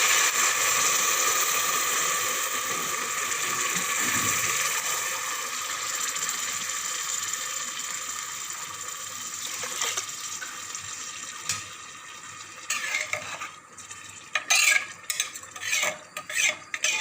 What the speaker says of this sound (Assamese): এতিয়া পানী দি দিলোঁ।